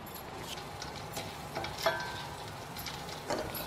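Urad dal frying in hot oil for ridge gourd chutney makes a soft, continuous sizzle, with scattered light ticks and crackles close by.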